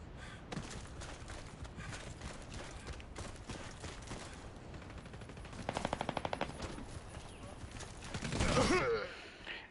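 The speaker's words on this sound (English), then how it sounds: "I can't escape that assault rifle for some reason" Assault rifle gunfire in the Warface shooter video game, rapid bursts and a steady stream of automatic shots with one crisp fast burst near the end, player talking faintly underneath.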